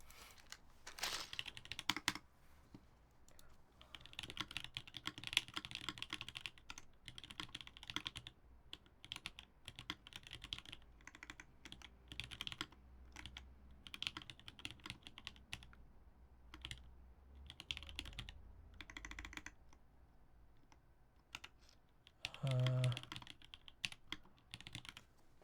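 Plastic keycaps being pressed onto a mechanical keyboard, giving a run of quiet, irregular clicks and taps close by, with short pauses between bursts and no talking.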